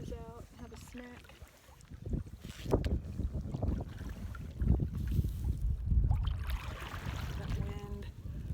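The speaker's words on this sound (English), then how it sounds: "That wind." Wind buffeting a microphone out on the water during a kayak trip, a steady rushing gust with paddle splashes and a voice speaking briefly over it.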